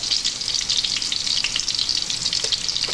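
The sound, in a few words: ginger and garlic sizzling in hot oil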